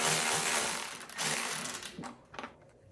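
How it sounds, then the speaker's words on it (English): Ratchet driven by a 10mm socket backs out the last bolt holding the airbox on a Royal Alloy GT150 scooter, a rapid close mechanical clicking that stops and restarts in short bursts and fades toward the end. "we're going to go ahead and take our 10mm socket, and we're going to remove the last bolt holding our airbox on"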